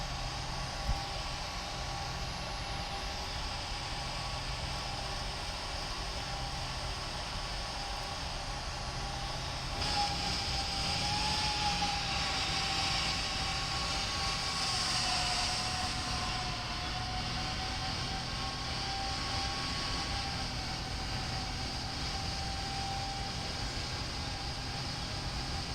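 A PMDG 747-8F freighter climbing out in a flight simulator gives a steady, unbroken engine roar with a constant broadband rush and no talking.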